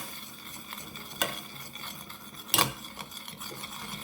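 Spoon stirring butter into a thickened orange sauce in a pan off the heat, a steady scraping swirl with two sharper clinks against the pan, close and alone.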